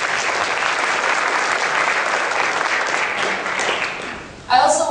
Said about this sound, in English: I'd like to give like one more round of applause for our speaker